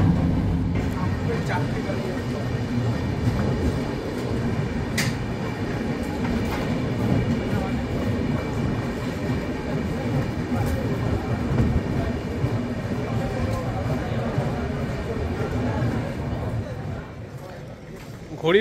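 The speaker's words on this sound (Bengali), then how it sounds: "ঘড়ির কাটায় রাত 8:16 ট্রেন এসে পৌঁছলো আমাদের দ্বিতীয় স্টপেজ অম্বিকা কালনাতে" A passenger train runs on its rails at night on a trip toward Darjeeling, a steady loud rumble with faint rattles and occasional sharp clanks throughout, heard from inside the coach with no talk.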